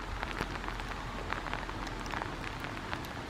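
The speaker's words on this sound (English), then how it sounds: "I'm going to have to do this quick because it's raining." Steady rain falling in woodland near a beach, a dense continuous patter of drops with occasional sharper close splashes, with no voices.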